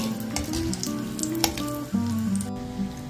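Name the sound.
cashews frying in ghee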